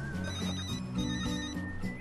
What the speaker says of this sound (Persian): نجیب تلفن دارد